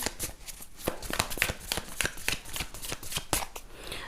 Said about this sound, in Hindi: इसको पहले शफल कर लेते हैं कार्ड्स को